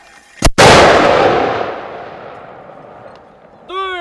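A mortar fires during South Korean army live-fire training with 60mm, 81mm and 107mm mortars: a sharp close pop, then a loud blast whose echo rolls away over several seconds before a voice shouts at the end.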